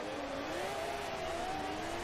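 A Pagani Zonda GR race car drives flat out on the Maple Valley track in Forza Motorsport 2, a steady, moderately loud engine drone slowly rising in pitch.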